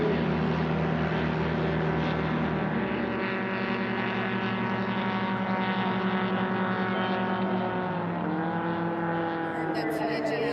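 Propeller aircraft engine of a STOL plane, the Lawnmower 3, droning loudly and steadily at a drag race; its pitch drops and shifts near the end as the reversible-pitch prop engages and the plane slows.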